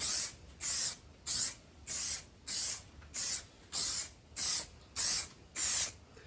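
Spray gun laying light, feathered coats of mixed paint over a car's clear coat during a bubbling clear coat repair, heard as ten short even hissing bursts in a steady rhythm, close and alone.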